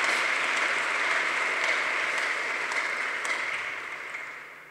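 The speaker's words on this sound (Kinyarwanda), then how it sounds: "dukomere yesu amashyi" A church congregation applauds during a Sunday worship service, a dense, steady wash of clapping that holds at an even level and eases off slightly toward the end.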